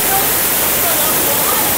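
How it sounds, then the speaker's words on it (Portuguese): Bica Grande de Natuba waterfall in an environmental park in Paraíba, Brazil, roars as a dense, steady wash of water noise filling the whole moment. "Cachoeira da Bica Grande de Natuba, Parque Ambiental"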